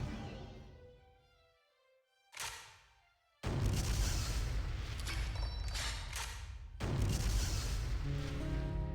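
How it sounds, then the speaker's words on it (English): Explosions in the video game killer7: a loud booming blast followed by a sustained roar of rumbling detonation, with sharp bursts layered through the continuous noise. "Explosion!"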